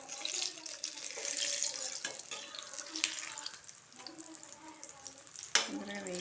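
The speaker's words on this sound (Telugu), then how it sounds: "చూడండి, ఇలా వేగుతున్నాయి." Pre-boiled food frying in a pan gives a steady, moderately loud hiss and sizzle that runs through the whole stretch, with a brief sharp clatter near the end and no talk over it.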